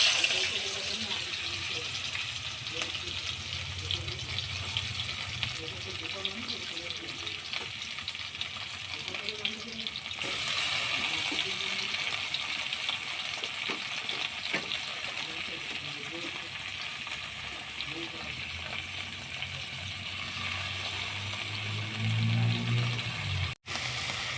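Fish frying in a pan with onion, tomato, capsicum and chili, a continuous soft sizzle and hiss that brightens partway through, with faint clatter and occasional low background sounds.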